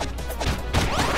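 A barrel smashed in TMNT Shredder's Revenge, a short, loud wooden crash with a sharp whack over the game's busy background.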